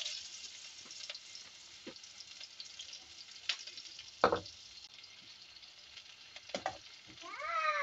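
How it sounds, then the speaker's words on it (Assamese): Onion sizzles in hot oil with a soft, steady frying hiss, broken by a few sharp crackles and clinks, and a cat meows near the end. "তেল গৰম হৈছে এতিয়া মই অনিয়ন দি দিছে"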